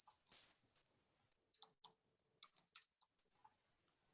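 Fingers typing on a computer keyboard nearby give quiet, irregular clicks in short bursts with small pauses between them.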